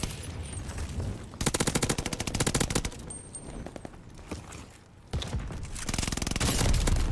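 Automatic gunfire from an Automaton with a 75-round magazine in Call of Duty: Vanguard, rattling in several loud rapid bursts separated by short pauses and nearer shots.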